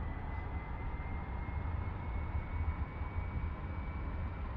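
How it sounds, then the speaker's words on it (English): Boeing 737 Classic engines spool up in Microsoft Flight Simulator, a steady low rumble with a thin constant whine layered above, even and moderately quiet throughout. "we can enjoy the engine startup, which, let's be honest, needs a bit of work"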